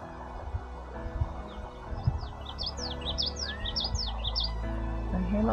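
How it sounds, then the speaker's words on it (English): Many birds chirp and tweet in quick overlapping bursts among canyon reeds near Horseshoe Bend, over a steady outdoor rumble, lively and fairly close, with no talking. "I'm hearing lots of birds."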